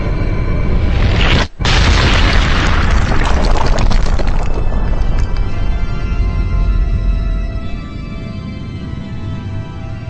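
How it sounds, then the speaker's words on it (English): A colossus collapsing in the video game Shadow of the Colossus: a massive, continuous booming rumble that fills the clip, broken by one brief cut, then slowly thinning into a lower sustained roar. "Every time a Colossus goes boom."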